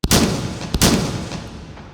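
Two heavy booming shotgun blasts in the H3VR virtual reality game, close and loud, each followed by a decaying rumble, with a short gap between them.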